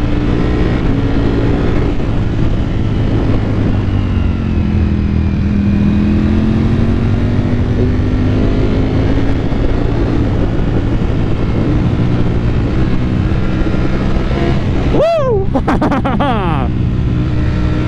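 A Ducati Panigale V4 S motorcycle ridden uphill in third gear, a loud sustained engine drone with rising pitch and wind rush, a rider's voice talking over it.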